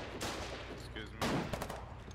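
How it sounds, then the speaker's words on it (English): An ACP rifle fires in a video game battle, with dense bursts of loud gunfire and a sharp volley partway through, mixed with brief game voices and rattling noise. "Don't fire the fucking ACP rifle!"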